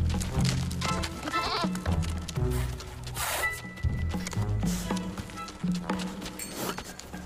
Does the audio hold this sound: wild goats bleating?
yes